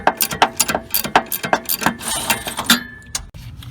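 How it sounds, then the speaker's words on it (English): A ratchet drives an Allen key to tighten a bolt on the lower control arm of a Honda Del Sol's front suspension, giving a rapid, close series of sharp mechanical clicks in quick strokes, with no talking. "I just have the Allen key locked in with my ratchet"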